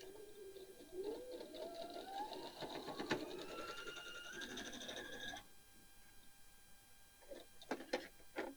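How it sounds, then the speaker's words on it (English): Sewing machine stitching a quilt block along a marked line, its motor whine rising in pitch through a sustained run of about five seconds, then stopping, followed by a few short clicks. "We'll put it right across there. Make sure it goes all the way across. And we're going to sew on the line."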